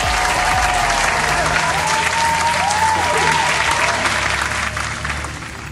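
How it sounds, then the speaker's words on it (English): A warm round of applause from a small group at an indoor dog and puppy photography session, steady clapping that fades toward the end. "Round of applause, everybody."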